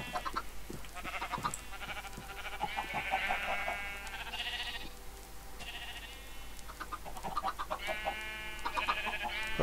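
Chickens and young chicks give rapid, high peeping calls and chirps that come in clustered bursts over several seconds, fairly close and with no talk.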